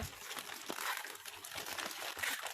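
Close, continuous crinkling and rustling of newspaper being wrapped around a tall potted plant to pack it for shipping, with uneven crunchy bursts throughout.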